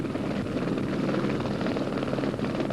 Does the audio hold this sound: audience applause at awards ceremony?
no